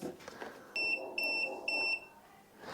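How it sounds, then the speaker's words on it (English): Three short, high electronic beeps from a multimeter's high-voltage warning sound in quick succession over faint background noise, each a clear tone lasting a fraction of a second. "it will beep like that to kind of warn you that you're working with high voltage"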